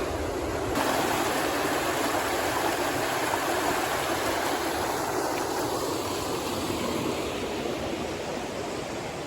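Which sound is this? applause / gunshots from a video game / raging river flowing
raging river flowing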